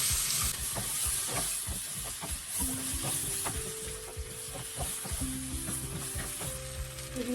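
Leg pieces frying in hot oil with a steady, loud sizzle, broken by frequent clatters and scrapes of stirring throughout, and no voices.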